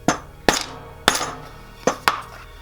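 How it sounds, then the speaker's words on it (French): A real steel hammer strikes a bass guitar split-coil pickup part during construction, five sharp, ringing blows at uneven intervals, close and loud with brief metallic decay. "Je vais prendre un vrai marteau."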